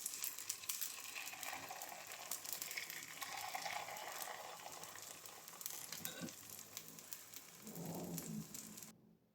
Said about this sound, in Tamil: நல்லா எண்ணெய் சூடானவுடனே இந்த மாவை ஊற்றிட்டு வெந்ததும் நல்லா திருப்பி போட்டுக்கலாம்